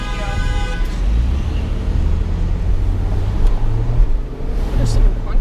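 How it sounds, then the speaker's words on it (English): Car horn honks from impatient drivers in street traffic behind a police stop in Waukesha, sounding over steady road and engine noise, with voices talking through it. "Is someone honking their horn at the cop?"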